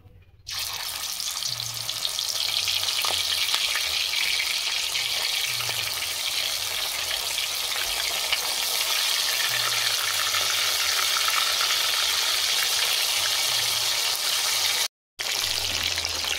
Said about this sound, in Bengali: কড়াতে সর্ষের তেল দিয়ে দিচ্ছি, মাছ ভাজবো। তেল গরম হয়ে গেছে, মাছ দিয়ে দেবো।